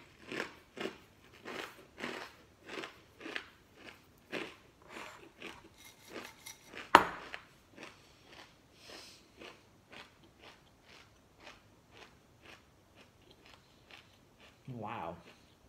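Loud, crisp crunching of Kind apple cinnamon cereal, a steady run of close bite-and-chew crackles roughly every half second, one sharp louder crack midway, with a brief voice near the end.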